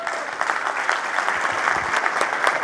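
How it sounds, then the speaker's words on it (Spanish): Audience applauding a speaker at a startup talk, a steady moderately loud patter of many hands with a few sharper claps standing out. "Un aplauso enorme para Marian."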